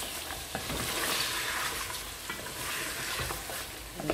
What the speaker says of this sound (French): C'est juste pour griller un peu la viande avec.